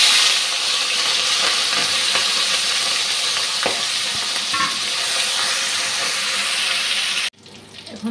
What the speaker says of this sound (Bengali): চিংড়ি মাছগুলি এখন ভেজে নিচ্ছি নুন হলুদ মেখে।